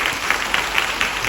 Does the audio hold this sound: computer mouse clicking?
no